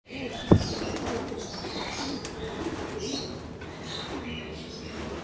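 Pigeons in an aviary loft coo softly amid scattered chirps and a brief wing flap or knock near the start, set against a steady background murmur.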